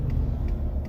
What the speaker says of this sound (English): Fucking traffic.